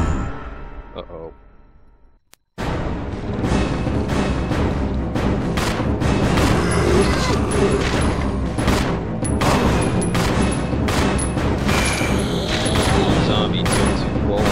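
Gunshots fired at zombies in Resident Evil 0 break in suddenly after a quiet opening and continue as loud, dense gunfire with booming game noise that stays steady to the end.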